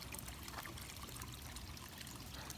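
Water from a garden pond spills out into a vase among ferns and plants, a steady close trickle and splash running continuously without pause.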